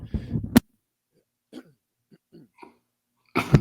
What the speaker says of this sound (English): I just coughed into the mic